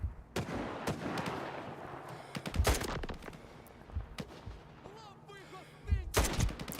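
Gunfire and grenade blasts in a first-person shooter, scattered loud bangs and booming bursts spread across the clip over a busy, noisy battle background.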